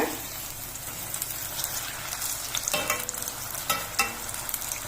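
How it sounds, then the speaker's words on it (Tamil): Chilli bajji deep frying in hot oil at a beachside stall, a dense, even crackling sizzle close up, with a few sharper pops and scrapes. "இந்த ஓசை அடங்கணும்னு எடுத்துட்டா சுவையான மிளகா பஜ்ஜி ரெடி ஆயிடுங்க"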